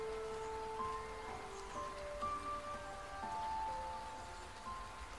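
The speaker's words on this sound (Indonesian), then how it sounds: "jatuhnya air dari atmosfer ke permukaan bumi yang kita kenal dengan nama hujan" Rain falling in a soft, steady patter, faint and even throughout, with some tonal background hum underneath and no voices.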